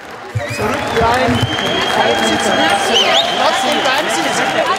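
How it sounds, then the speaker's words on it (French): Applause rings through a train station as arriving migrants pass, a sustained wash of clapping under crowd chatter and a talking voice. "les applaudissements qui retentissent dans la gare à leur passage viennent vite les rassurer"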